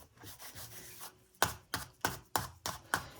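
Six sharp, percussive slaps of pretzel dough on a hard counter, evenly spaced and close, following a quieter stretch of soft rubbing and handling noise.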